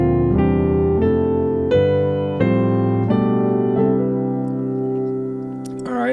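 Solo piano plays a scale with moving inner chord voices, each step struck as a full sustained chord in a steady, close, clear sequence, the last one ringing out, with no talking.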